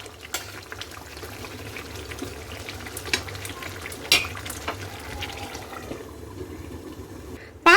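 Indian chicken curry is stirred in a pan: a steady bubbling, frying hiss continues throughout, with scattered scrapes and taps of the spoon and a sharp clatter at the very end.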